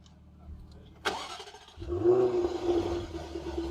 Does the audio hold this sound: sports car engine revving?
yes